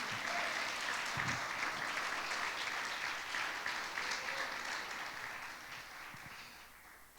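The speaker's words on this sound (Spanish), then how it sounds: "Puedes aplaudirle a Dios en estos momentos." A house-church congregation applauds God during a sermon: a continuous wash of crowd clapping at moderate, slightly distant volume that slowly fades over about seven seconds.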